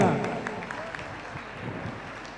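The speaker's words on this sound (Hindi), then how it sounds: "ऐसी भावना के साथ जोरदार तालियां" An audience at a religious Muni Deeksha Diwas gathering in Agra applauds, a steady wash of claps with voices mixed in throughout.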